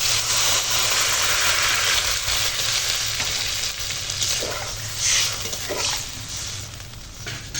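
Loud, steady frying hiss as water is added to spices fried with boiled taro, with stirring scrapes and a few bursts of sharper sizzle partway through; no one speaks.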